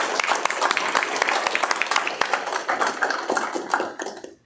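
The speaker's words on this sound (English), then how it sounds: "let's give District 5 a round of applause." People at a state transportation commission meeting clap for District 5 in a brief, brisk round of applause, with distinct individual claps close by before it fades out.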